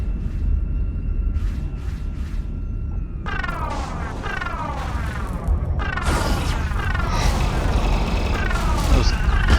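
Spaceship main cannons firing in the Starsector space combat game, dense rapid bursts of booming shots that start abruptly partway through and continue loud and sustained, layered over a low background hum.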